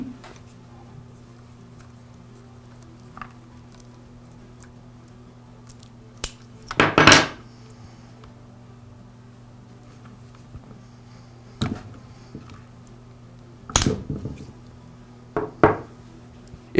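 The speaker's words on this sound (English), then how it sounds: "Now I'll remove the throttle cable and the fuel lines from the carburetor." Light metallic clicks, taps and knocks from disconnecting the throttle cable and fuel lines on an Echo string trimmer carburetor. A handful of short, sharp sounds are scattered over a quiet background, with a louder cluster near the middle and another toward the end.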